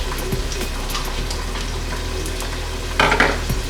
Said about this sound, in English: Once the oil is warm, I'm going to add in some onions